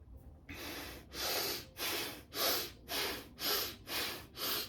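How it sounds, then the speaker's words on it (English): Breath of fire yoga breathing: a steady run of about seven rapid, forceful nasal exhalations, evenly spaced and close, each a sharp rushing snort with short quiet gaps between. "we're gonna start breath of fire for 3 minutes"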